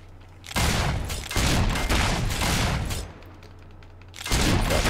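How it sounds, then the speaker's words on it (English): Gunfire at enemies in Fable 3: loud bursts of rapid, crackling shots in several stretches lasting about a second each, separated by short lulls of quieter background ambience. "Shooting these guys."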